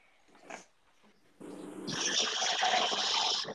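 Puppies making soft whimpering, growling sounds, first a brief faint yelp and then a steady, fairly close jumble of small dog noises lasting a couple of seconds.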